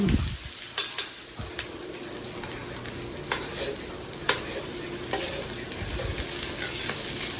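Pork adobo frying in a pan, with hot oil crackling and sizzling steadily and sharp splatter pops and stirring clinks at irregular moments, close and moderately loud with no talk.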